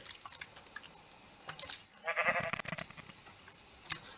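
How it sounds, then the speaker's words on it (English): Sheep in the video game Minecraft, a single short bleat rising over faint clicking, quiet and near, with no talk. "There's a sheep."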